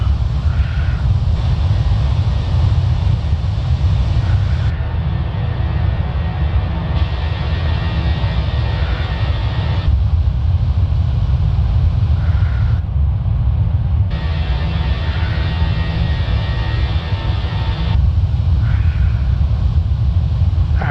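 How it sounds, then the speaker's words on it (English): Airbus A321 cabin noise inside a Fenix flight simulator in flight: a steady, loud low rumble and airflow hiss runs throughout with no talking. "the cabin sound is a bit too loud on the Fenix"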